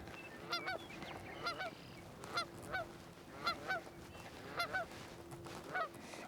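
Geese on a nature trail honk in short, repeated bursts at a steady rhythm, faint and somewhat distant, with no voices.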